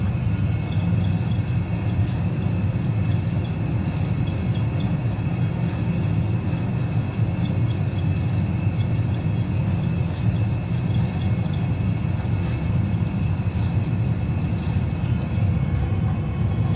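An Airbus A320 on its takeoff roll with engines at full thrust makes a loud, constant, broadband roar that holds steady from start to finish.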